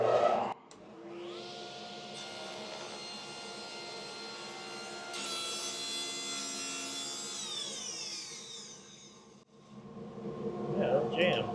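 A test board is clamped down and cut to a taper on a power saw, the blade whining steadily for about nine seconds before the board jams and the cut cuts out abruptly, with a voice coming in near the end.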